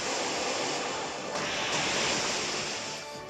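Rushing water whooshes in a Pokémon battle game as the Waterfall move is used, a loud, steady cascade of spray-like noise that swells slightly midway and then eases off.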